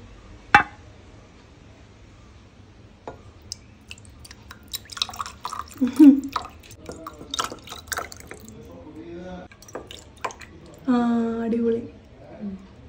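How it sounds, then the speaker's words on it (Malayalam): Rasam made in a stone pot is poured into a transparent glass, giving soft trickling and dripping splashes that come and go under a person's talking, with a brief steadier pour near the end. "അപ്പൊ ആ ട്രാൻസ്പെറന്റ് ആയിട്ടുള്ള ഗ്ലാസ്സിൽ ഒഴിക്കാം"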